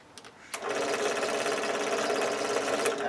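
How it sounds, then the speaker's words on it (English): A drill bores a hole in a knife jig. After a brief click, one loud steady whir starts close by and holds without a break. "I did want to get one of these holes drilled myself"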